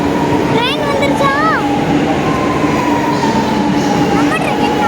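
A metro train pulls into a station with a steady, loud rumble of wheels and a few rising electric whines, while a voice speaks over it.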